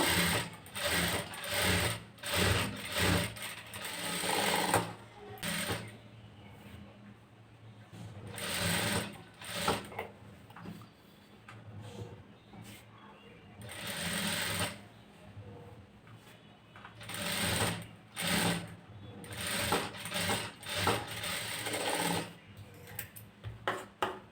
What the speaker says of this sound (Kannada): ಈ ರೀತಿ ಮೇಲ್ಗಡೆಯಿಂದನೂ ಒಂದು ಸ್ಟಿಚ್ ಹಾಕೋಬೇಕು